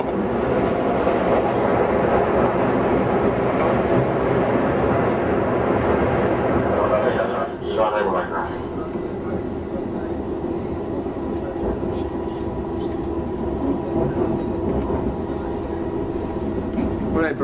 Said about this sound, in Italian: Questo treno va forte un bel po'.